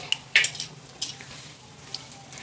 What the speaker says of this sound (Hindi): कितने अच्छे से फ्राई होंगे अभी हमारे मोमोज